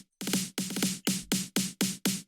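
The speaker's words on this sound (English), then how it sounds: "so I made my own build-up snare" A self-made build-up snare in a dance remix, punchy snare hits in a quick stuttering pattern that settles into regular, evenly spaced strikes, close and clean with no voices.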